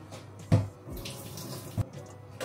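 Tap water runs into a kitchen sink during steak and pancit canton cooking, a soft continuous splash broken by a few knocks and clatters of utensils.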